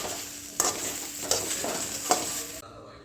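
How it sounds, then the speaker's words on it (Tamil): Okra sautéed in a pan, a steady soft sizzle with three distinct spoon scrapes against the pan, close and moderately quiet, ending abruptly. "வெண்டைக்காயை வதக்கி வச்சுட்டோம்"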